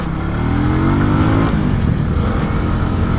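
A SKYGO Magnus 200 motorcycle cruises at about 40 km/h, its engine giving a loud, close, steady drone with harmonics that climb and shift as it rides, with no voices.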